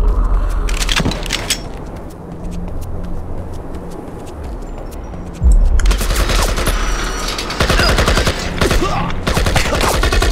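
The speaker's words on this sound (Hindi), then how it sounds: "अभी कहाँ से फायरिंग चली।" Gunfire in the Project IGI video game at the Radar Base level: loud bursts of shots at the start, a quieter stretch, then heavy sustained firing with impacts after the midpoint.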